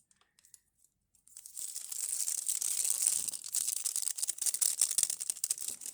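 Foil wrapper of a Godiva caramel chocolate torn open up close, starting after a brief quiet pause and continuing as a steady, crisp crinkling rip with sharp crackles to the end.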